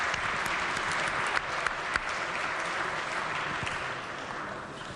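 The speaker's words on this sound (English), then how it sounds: "So everybody please give them a warm round of applause." Warm, sustained applause in the West Virginia House chamber for the legislative pages, a dense, even wash of many clapping hands at a constant level throughout, with no voices rising above it.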